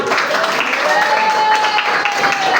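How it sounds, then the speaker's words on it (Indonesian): A burst of clapping from a crowd fills the room, steady and close throughout. "Tepuk tangan untuk kita semua"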